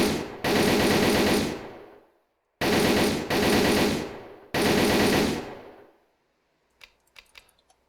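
An MP44 assault rifle in ArmA 3 fires three loud full-auto bursts, each about one to one and a half seconds long, separated by short gaps, followed by a few faint metallic clicks.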